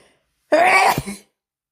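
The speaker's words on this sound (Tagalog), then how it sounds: "Bahing." A single short, forceful sneeze bursts out close and loud, then fades into silence.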